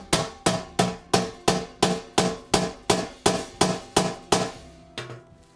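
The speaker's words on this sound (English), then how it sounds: "you're actually trying to pry it open using a hammer" Heavy hammer blows on a combination safe being forced and pried open, about a dozen loud metallic strikes at a steady, evenly spaced rhythm, each ringing briefly, close up, the last ones a little softer.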